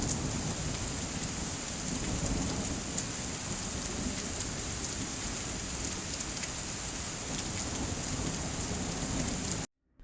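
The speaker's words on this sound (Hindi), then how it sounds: "दोपहर होते होते बारिश थोड़ी कम हो जाती है।" Dense, steady downpour of heavy rain with constant hiss and spatter, rumbling low in the background, ending abruptly.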